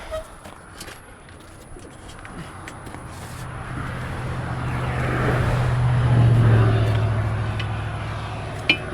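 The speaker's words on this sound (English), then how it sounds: "Got traffic coming." Cars passing on a road beside a Jeep XJ being dollied, a gradual swell of tire and engine noise that peaks and fades, with pigeons cooing nearby.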